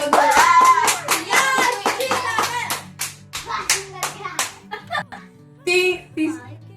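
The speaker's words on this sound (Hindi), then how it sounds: "वापिस से यश के लिए तालियां" Guests clap for Yash during a housie game at a child's birthday party, a burst of brisk applause that thins into scattered claps, with children's chatter mixed in.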